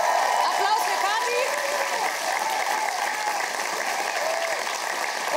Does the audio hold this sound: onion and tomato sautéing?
no